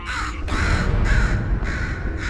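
A crow in the video game Portal 2 caws loudly and close, four or five harsh, drawn-out calls repeating in a steady rhythm with no one speaking.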